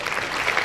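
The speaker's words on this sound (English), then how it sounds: "They're clapping for you, man." A small audience claps for a podcast guest, a brief steady patter of many hands without individual claps standing out.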